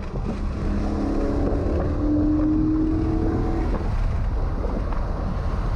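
A 2016 Dodge Charger R/T Scat Pack engine droning and revving from inside the cabin, with a brief rising note during a downshift over steady road and wind rumble.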